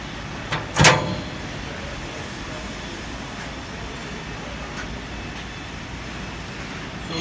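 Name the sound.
door of a sawing machine being closed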